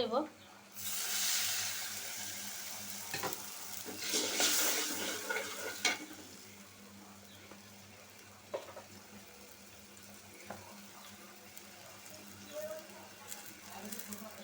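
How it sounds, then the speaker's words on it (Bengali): Water is poured into a pan of frying spices, starting with a loud hissing sizzle and stirring that gradually settles into a quieter simmer with scattered clicks. "খালি একটু পানি দিয়ে নিই নাহলে মশলা পুড়ে"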